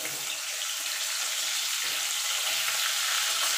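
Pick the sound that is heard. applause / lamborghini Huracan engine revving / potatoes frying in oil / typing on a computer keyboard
potatoes frying in oil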